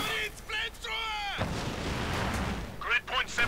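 A heavy blast booms from a Company of Heroes 2 infantry battle, with rumbling gunfire rolling underneath as a voice talks over the start and end of the short burst.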